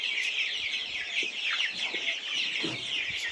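Broiler chickens of the colour bird type, about a kilogram at 32 days, cluck and chatter in a dense flock on a poultry farm, a steady close chorus with no one speaking.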